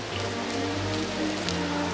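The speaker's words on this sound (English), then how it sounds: "what are the chances that we reach up here right when the rain starts falling?" Steady rain pattering on surfaces at an outdoor lookout point above Rüdesheim am Rhein, a dense continuous hiss of drops heard up close with no talking.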